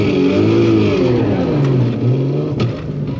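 Barra-engined Mustang GT350 at a drag strip revving hard during a burnout, a loud close engine roar with falling and rising pitch across a few seconds.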